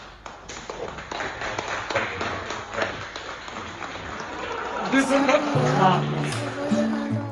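A group of people claps in a classroom, with a rapid run of close, sharp hand claps over the first few seconds before voices take over and the clapping fades.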